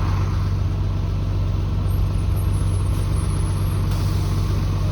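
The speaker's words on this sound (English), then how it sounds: "here comes two Orion 7 OG diesels from 2006" Two 2006 Orion VII diesel buses rumble by close and loud. A deep, steady engine drone with strong low harmonics holds through the whole stretch, with a faint high whine above.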